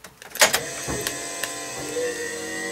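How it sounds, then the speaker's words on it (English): A small electric vacuum pump in a Jeep CJ7 electric vehicle conversion whirs on with a rising mechanical hum, followed by a few sharp clicks and a steady whine, close by. "It's the vacuum pump you hear coming on."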